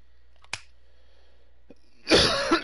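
A single sharp, loud human cough bursts out near the end after a quiet stretch with a faint earlier click, close to the microphone and harsh.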